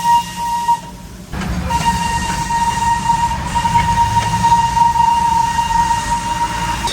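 A train passes a railway crossing during a traffic jam, a loud continuous rumble and rolling clatter close by, with a sustained horn tone running through most of the passage.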